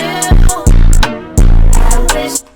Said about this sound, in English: So it's really distorted,